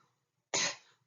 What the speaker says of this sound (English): The bradykinin causes this like dry, irritating, throat tickling kind of cough.